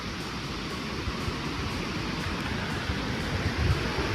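Waterfall at a spot in Santa Rita do Passa Quatro, Brazil, heard as a steady, dense rushing roar of falling water at moderate level, continuous and unbroken with no voices.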